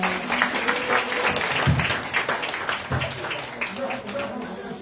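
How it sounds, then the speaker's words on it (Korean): An audience at a party members' meeting for politician Jung Chung-rae in Jeju breaks into applause, a dense, moderately loud clapping that fills the room, mixed with background voices. "저희 정청래 의원님께 뜨거운 박수 부탁드리겠습니다"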